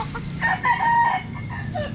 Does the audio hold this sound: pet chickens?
yes